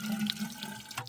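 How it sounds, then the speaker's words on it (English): Water pours and splashes steadily into the back of a well pump to prime it, a close running trickle with a faint tonal hum underneath and no talking. "you gotta pour some water in the back of the well"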